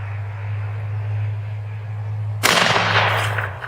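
A single sharp rifle shot from an 1898 30-40 Krag cracks out loud and close after a steady low hum, followed by a brief ringing decay outdoors.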